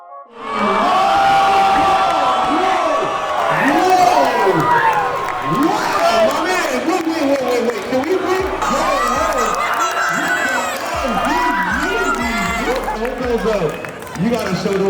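Loud crowd cheering and shouting around the champion Vick Almighty at a custom sneaker event, a dense continuous roar with whoops, layered under a voice talking throughout.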